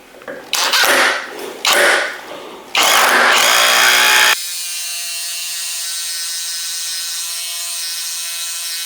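A Skil 12V subcompact impact driver drives a fastener into a small pilot hole in three loud, rattling bursts, followed by a steady high electrical whine after the last burst stops.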